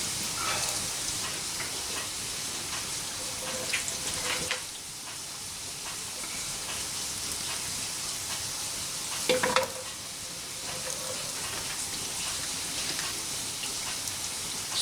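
Eggs frying in rendered bacon fat in a cast iron skillet over a hearth, a steady close hiss and crackle with a brief scrape of the pan midway.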